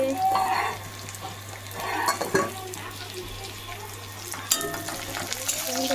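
Eggplant, potato, tomato and cabbage cook together in a pan, giving a steady close sizzle broken by scraping stirs and occasional clinks of a utensil against the metal.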